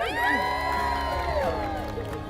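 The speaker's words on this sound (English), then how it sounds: "I'm just going to dial the crowd cheering sound effects back a little bit." Cheering from a wedding crowd, dense with shouts and high whoops, runs continuously at a steady, fairly loud level across the whole short stretch.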